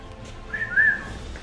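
A single short human whistle, a brief rising tone heard faintly and alone against a low background hiss.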